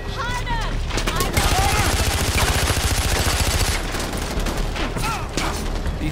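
Rapid automatic gunfire from guns in the video game Far Cry 4, dense fast bursts of loud shots with echoing cracks, up close and sustained, a voice briefly heard over the shooting.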